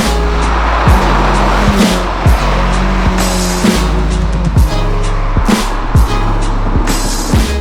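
A 4-cylinder 2.0L Toyota Supra on the road, its engine droning loud and steady from inside the car, pitch climbing through each gear and dropping at every shift, with no one speaking.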